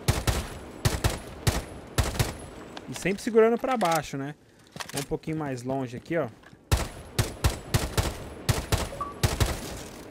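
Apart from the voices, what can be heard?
short gunfire bursts in video game Rainbow Six Siege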